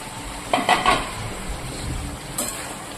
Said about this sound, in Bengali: এখন এটার মধ্যে যে ভেজে রাখা ভেন্ডিটা, এটা আমি এখন দিয়ে দেব।